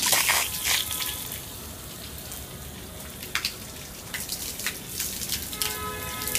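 Water spraying from the outlet of a 12 V brushless DC pump and splashing down, a continuous close hiss and patter with scattered droplet ticks, no voices.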